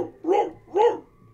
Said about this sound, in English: He was barking loudly out in the pen.